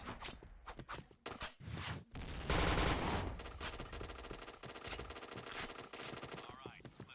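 Rapid machine-gun fire in a first-person shooter, with crisp repeated bursts and single cracks stacking into a loud sustained volley midway, footsteps and a faint voice mixed underneath.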